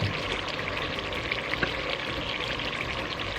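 Egg sauce with minced garlic fries in a pan, producing a continuous, fairly loud crackling sizzle with one brief tap about midway; no voices.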